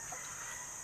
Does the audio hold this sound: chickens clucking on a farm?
yes